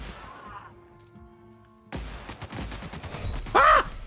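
Enemy gunfire erupts in The Outer Worlds, a dense burst of rapid shots and cracks that arrives abruptly after a quieter stretch of tones and builds toward a loud, harsh peak near the end.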